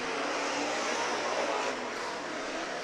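Big-engined speedcars run hot laps at a Kalgoorlie speedway meeting, their engines a dense, loud, unbroken roar from the track throughout.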